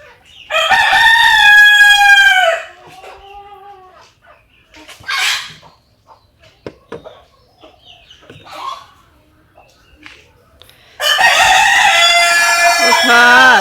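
Chickens on a poultry farm call loudly and close by in harmonic bursts at the start and end, with softer scattered clucks and rustling in the quieter stretch between.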